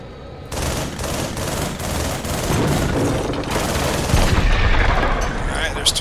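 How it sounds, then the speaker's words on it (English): Rapid machine-gun-like fire and whooshing missiles in the aerial combat game Project Nimbus, a loud, continuous barrage of closely spaced bursts building toward a heavier rumble near the end. "Missiles flying all around."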